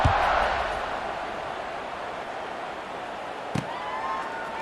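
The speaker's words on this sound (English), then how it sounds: "this crowd is feeling themselves after that last drive" Stadium crowd in College Football 26, Nevada Wolf Pack against UNLV Rebels, roars as a steady wash of cheering, loudest at the start and easing slightly, with one brief thud partway through.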